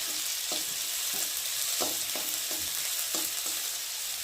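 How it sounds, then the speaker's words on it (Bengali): Crushed garlic and onion fry in hot oil, a steady close hiss broken by regular light scrapes of a spatula stirring the pan. "আমি রসুন আর পেঁয়াজটা একটু ভালো করে ভেজে নিই।"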